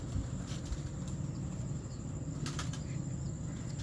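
Wings of a pigeon flap in a few quick broadband bursts over a steady noisy outdoor background, amid show-quality antique-coloured pigeon breeds in Lahore.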